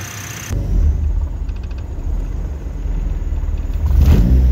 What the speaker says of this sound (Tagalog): Ina-adjust nila ngayon yung idle kasi sobrang taas eh